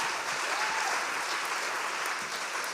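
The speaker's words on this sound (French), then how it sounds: "Si on peut leur faire une petite main d'applaudissement, ça serait apprécié." Audience applause at a UQO student involvement gala, a continuous, even roar of many hands clapping that holds at a steady level throughout.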